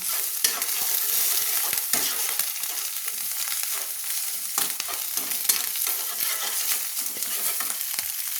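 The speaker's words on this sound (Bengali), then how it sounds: "ডিমটা আমি ভেজে নিচ্ছি।" An egg frying with a little salt in a pan for chowmein, with a steady close crackling sizzle and stirring scrapes running throughout, no talk.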